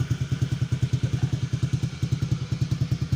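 A motorcycle fitted with a homemade modified exhaust idles close by, giving a deep, rapid, evenly pulsing throb that repeats steadily throughout, alone without talk.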